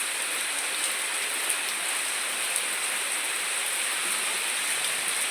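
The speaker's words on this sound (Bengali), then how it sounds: "এদিকে বৃষ্টি পড়ছে।" Steady rainfall pours down during a hot spell, a dense, even hiss of drops on surfaces that stays constant throughout with no voices.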